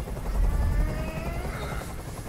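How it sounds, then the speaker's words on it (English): A helicopter in the video game Detroit makes a steady, loud rotor thrum and low engine rumble nearby, heard on its own without talking. "I can't stand that noise anymore. Tell that helicopter to get out of here."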